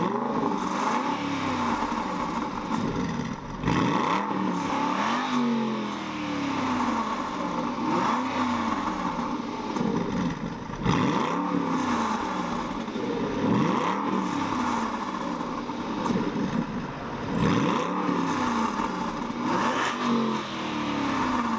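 A naturally aspirated 4.7-liter V8 in an Aston Martin Vantage GT revs repeatedly, each blip rising sharply and falling back to idle in a rhythmic series, loud and close with no talking.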